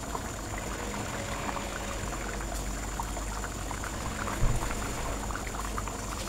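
Simmering meat curry bubbles and hisses in a pot as cut, washed potatoes go into the gravy, a steady soft boiling texture with a brief splash or clatter midway.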